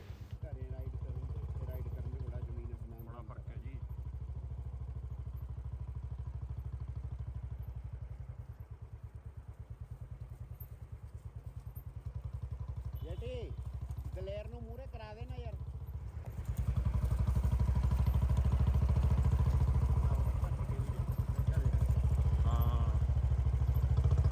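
A motorcycle engine drones steadily on a long group ride with friends, a low rumble that grows louder near the end, with people talking over it.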